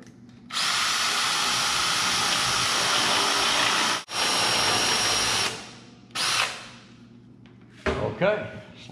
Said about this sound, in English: Okay, so I'll drill my four holes on this side from the back.